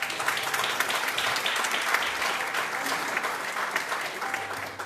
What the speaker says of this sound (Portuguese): E a igreja aplaude o Senhor